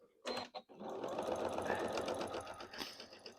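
A sewing machine stitches a 12-inch sheep quilt block: two short bursts start it, then a steady, continuous whirring run lasts close and fairly loud to the end.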